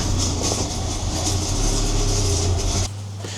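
Alfa Romeo Giulietta QV with the 1750TBI engine running with a fault, a loud close metallic rattle and clatter over a low drone, steady throughout before the note changes abruptly near the end.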